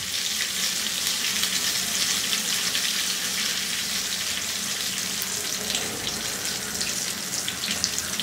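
Eggplant slices frying in hot oil, a continuous bright hiss and sizzle with a watery, crackling texture, steady and close throughout without pauses.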